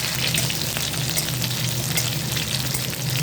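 Cashews and raisins fry in hot ghee with cinnamon, cloves and bay leaf, giving a loud, continuous, close sizzle with crackling throughout.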